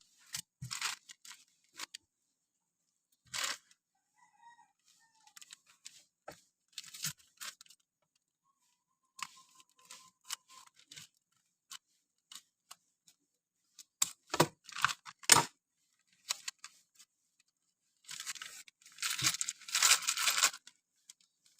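A package of coins sent from Hong Kong is torn open by hand, with scattered crinkles, rips and rustles coming in bursts separated by pauses, close and fairly quiet.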